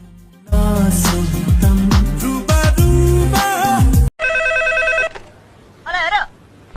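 A telephone ringtone sounds as a short electronic melody right after loud music cuts off, then repeats once more briefly, close and clear.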